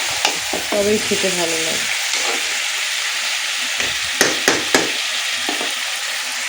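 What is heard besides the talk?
stirring and frying spice mixture for Malabar spinach with shrimp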